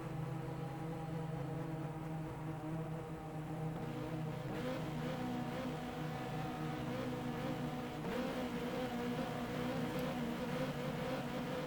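Ferrari 360 Modena engine in the GTR racing game, a steady mid-revving drone while cruising in low gears, with small shifts in pitch and a constant hum, faint and continuous, no talk.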